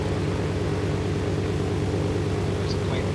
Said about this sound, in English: There's a plane behind you.